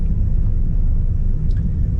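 A 1968 Dodge Super Bee's engine idles with a loud, steady low rumble, close and continuous across the whole stretch.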